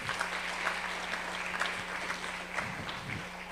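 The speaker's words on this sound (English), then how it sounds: "clap it up for him" An audience at a returning citizens summit applauds, with sustained dense clapping from a crowd filling the room, steady and moderately loud, with a faint voice underneath.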